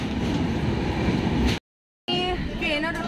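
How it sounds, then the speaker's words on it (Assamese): A train pulls into a station on a journey to south India, giving a loud, steady rumble of rolling carriages. Partway through the sound drops out briefly, then the rumble returns with squealing brakes and metallic whines. "ট্ৰেইন আহি আছে আৰু আমাৰ ট্ৰেইন আহি গ'ল"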